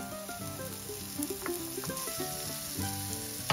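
Chili fries in a pan with onion, producing a sizzling crackle beneath a pattern of clear tonal sounds, with a sharp knock near the end.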